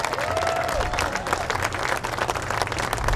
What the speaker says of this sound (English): How about a round of applause for my sister, Darlene?